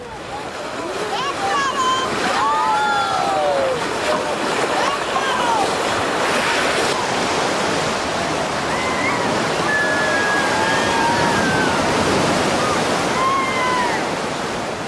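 Rough river water rushes and churns around a boat on a guided trip, a loud continuous roar mixed with wind buffeting. Voices are heard over it.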